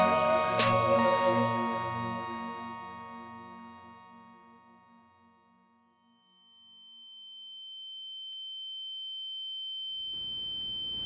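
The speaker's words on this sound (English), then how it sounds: "A loud ringing." A loud ringing sound effect in an audio drama: a sharp impact followed by sustained bright ringing tones that fade over several seconds, leaving a thin high whine, then a rising wash of noise at the end.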